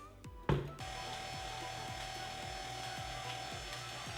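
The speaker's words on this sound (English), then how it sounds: "let's give that a little mix" Salt and flour being mixed together in a bowl for potato dinner rolls: a short clatter at the start, then a steady rubbing churn with a regular scraping sweep repeating roughly twice a second.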